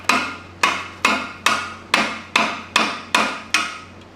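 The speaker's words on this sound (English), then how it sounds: "Now we might be able to tap it." A hammer taps a stuck bolt on a Mazda Miata subframe in nine evenly spaced, sharp metallic strikes, each ringing briefly, close and loud.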